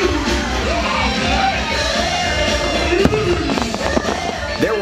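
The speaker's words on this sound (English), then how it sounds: "Mickey's Not So Scary Halloween Party wouldn't be complete without those special Halloween fireworks in the" Halloween fireworks burst at Mickey's Not So Scary Halloween Party, a steady loud barrage of booms and crackles with scattered shouts and cheers from a crowd throughout.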